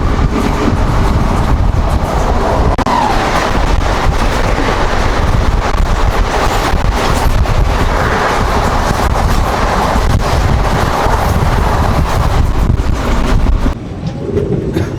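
Steady rumble and rattle of the Dharmavaram–Narasapuram train 17248 heard from inside while under way, loud and continuous with wind noise, easing slightly near the end.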